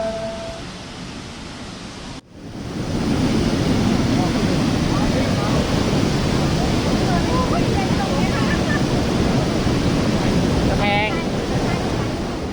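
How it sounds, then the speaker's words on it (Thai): Haew Narok waterfall in Khao Yai National Park roars as a dense, steady wash of falling water, loud and continuous after a brief cut near the start. "น้ำตกเหวนรกอุทยานแห่งชาติเขาใหญ่ครับ"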